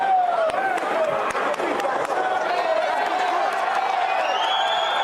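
A loud crowd at a Power Slap event roars and cheers steadily and close up, with whoops and shouting layered over the continuous noise.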